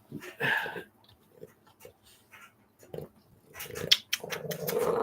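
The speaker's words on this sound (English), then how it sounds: "He's growling because" A dog growls low and intermittently, with snuffling and breathy sounds in between, indoors during a casual home live stream in Massachusetts, with other household noises around.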